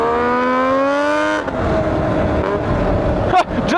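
A Kawasaki Bayou ATV with a swapped-in two-stroke engine revs hard, its rising whine holding high before dropping as it rolls along at speed, loud and close with rushing wind and a rough bump near the end.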